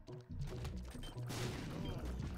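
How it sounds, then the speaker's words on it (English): Rapid, crackling bursts of explosions in The Binding of Isaac, a dense, continuous barrage of small blasts that fills the whole moment at moderate loudness. "The explosions be going crazy."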